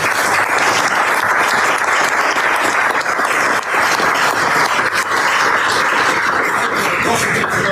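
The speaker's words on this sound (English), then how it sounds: "So, how about a round of applause?" A large audience applauds at a U.S. 3rd Fleet change of command ceremony, steady dense clapping that holds loud and even throughout with no break.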